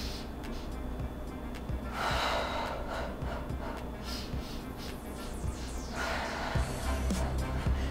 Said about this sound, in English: Inhale, 5 breaths, exhale.